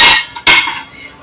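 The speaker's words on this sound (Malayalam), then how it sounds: "എന്നിട്ട് നമ്മള് പ്രീഹീറ്റ് ചെയ്യാനുള്ള പാത്രം വെച്ചു. അതിന്റെ ഉള്ളിൽ ഇതുപോലുള്ള റിങ് ഇറക്കി വെക്കുക" Metal clanks as a preheating pot and a metal ring are set down for baking, two sharp close clinks with short ringing decay.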